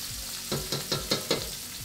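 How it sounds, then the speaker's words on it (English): Chopped garlic hits a hot pan beside blackened Cajun chicken, a steady close sizzle with several brief stirring bursts spaced about every fifth of a second. "And from there, we're gonna add some chopped garlic."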